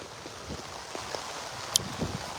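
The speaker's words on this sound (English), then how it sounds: "Lots and lots of rain here." Heavy rain pouring on a Monday morning in New Amsterdam, East Berbice, Guyana, a dense broadband hiss with buffeting wind on the microphone and a few faint sharper splashes and clicks.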